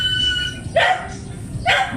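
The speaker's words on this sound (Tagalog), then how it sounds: "umiiyak na yung aso namin. Nagugutom." Two short, high-pitched dog whines about a second apart, fairly close, over a low background rumble.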